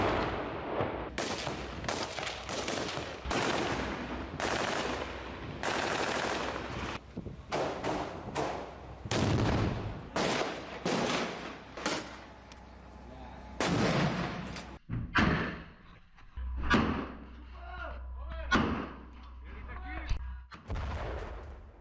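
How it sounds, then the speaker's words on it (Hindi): Soldiers' guns fire in combat in Gaza with repeated loud, booming shots and bursts, some close and some echoing farther off, over wind rumble and a brief murmur of voices. "इसमें आईडीएफ जवानों की बंदूकें हमास के लड़ाकों पर आग उगल रही हैं"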